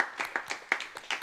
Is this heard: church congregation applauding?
yes